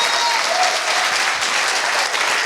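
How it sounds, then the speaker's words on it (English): Audience applause fills a dark hall at a Pecha Kucha Dundee presentation evening, a steady dense wash of clapping from a large crowd, loud and continuous throughout with no pauses. "Please, one rule, clap away"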